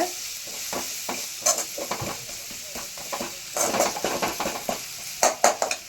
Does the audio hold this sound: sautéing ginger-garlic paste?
yes